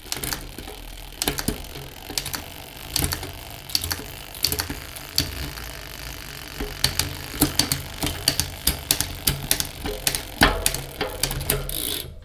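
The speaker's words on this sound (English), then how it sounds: "now we're going to start shifting the bike and checking the cable tension" A bicycle rear derailleur shifts through its gears as the cable tension is checked, giving repeated sharp mechanical clicks and ratcheting freewheel ticks in irregular bursts, close up, with no talking.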